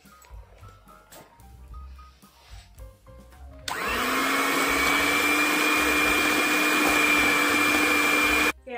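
An electric hand beater whips chilled cream for a birthday cake, starting abruptly with a loud, steady high whine that holds for several seconds before cutting off, after softer kitchen clatter.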